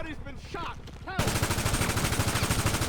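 Dense automatic gunfire in GTA V, a steady rapid burst that starts abruptly partway through and runs loud to the end, after a stretch of game sounds and a voice.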